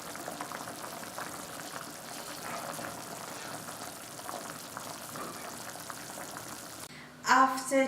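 Butternut and apple soup boils in a lidded pot on high heat, a steady soft bubbling hiss throughout, with a brief louder clatter near the end.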